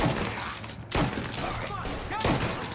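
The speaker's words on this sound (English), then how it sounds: "the guy without the shirt is fucking shooting?" Gunfire in the video game Mafia Definitive Edition: a few sharp, loud shots at uneven intervals over a busy background with some voice activity.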